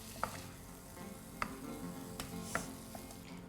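Vermicelli stir-fry with soya chunks and tomato is mixed in a pan, a quiet sizzle under a few sharp spoon clicks against the cookware spaced about a second apart, close and without talk.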